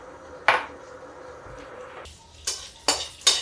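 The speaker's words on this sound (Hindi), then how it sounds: "जीरा डाल दिया हमने, जीरा जब तक तड़के" Cumin seeds tempering in hot oil already laced with asafoetida, the start of a moong dal sabzi, give off a soft sizzle broken by a few sharp, close stirring clatters against the pan.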